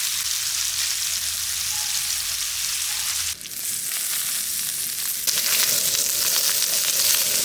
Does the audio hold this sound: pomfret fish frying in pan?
yes